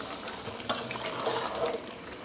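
Freshly cooked rice pulao mixed in a pan, a brief soft scrape and stir over a low, steady sizzle, close and without talk.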